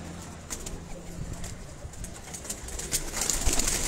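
Pigeons bred for rooftop flying are held up for display, giving soft cooing and rustling over steady background noise, near and fairly quiet, with no talk.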